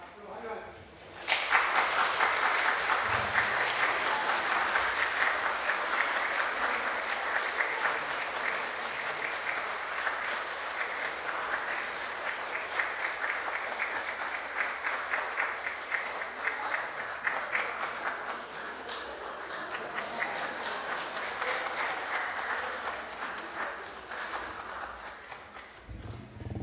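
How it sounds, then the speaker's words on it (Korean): A church congregation at a Parents' Sunday worship service stands and applauds to welcome the elders: loud, dense clapping that starts abruptly and holds steady for about 25 seconds before easing slightly near the end. "다음에 다 일어나셔서 박수로 환영하십시오"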